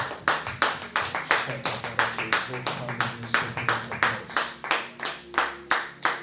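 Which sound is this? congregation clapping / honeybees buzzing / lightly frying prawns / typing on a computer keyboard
congregation clapping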